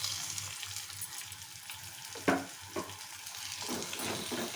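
Thinly cut tomato pieces hit hot oil in a pan while making potato curry, producing a steady crackling sizzle with a sharp splash and a few stirring clatters partway through.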